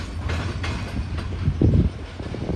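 Heavy freight train of gondola and hopper cars loaded with railroad ties and rock rolling past, a steady low rumble of wheels on rail with a louder clatter of joints partway through, close by.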